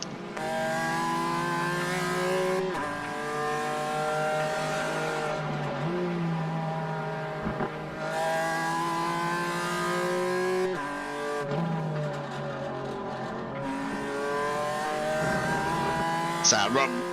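Race cars in a GT4 sim racing game run nose to tail in a drag race, their mid-pitched engines revving and climbing through gears in steady repeated sweeps, with a commentator talking over them throughout.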